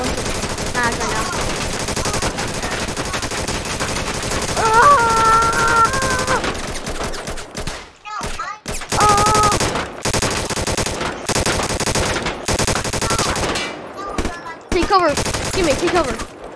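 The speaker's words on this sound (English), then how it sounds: "This machine gun can do this." A machine gun fires in sustained, rapid bursts in a war roleplay video game, loud and dense, broken by brief pauses, with howling and other game noise mixed in.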